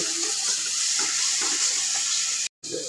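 Rice being stir-fried in a pan, a continuous close hissing sizzle with soft scraping stirs running throughout, briefly cut off near the end.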